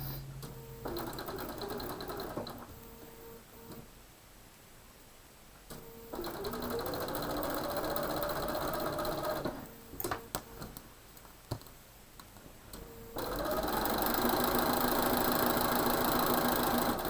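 A sewing machine stitches a quilt seam in several close, even runs of rapid mechanical whirring and ticking, stopping between runs for short quieter pauses, with no speech.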